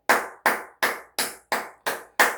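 A single person claps hands seven times, slow and evenly spaced, each clap crisp and close with a short decay, alone with no talk around it.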